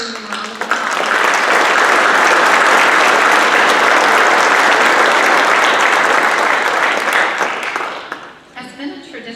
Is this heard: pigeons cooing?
no